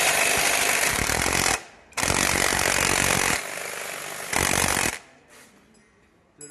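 The front wheel of an E3 series scooter is tightened onto a new axle with a 16 mm socket wrench and an 8 mm hex key, giving two long, loud buzzing bursts, then a shorter one that cuts off into near silence.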